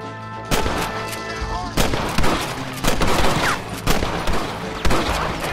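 Gunfire during a firefight in Red Dead Redemption, repeated loud close shots cracking out roughly once a second, with shouting voices in the background.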